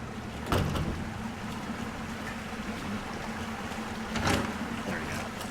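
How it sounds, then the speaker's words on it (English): Water gushing steadily from an overflowing, clogged women's restroom in Resident Evil 2 Remake, a constant rushing wash under low ambient hum, broken by a couple of brief clunking knocks. "You can hear the water gushing from the women's restroom,"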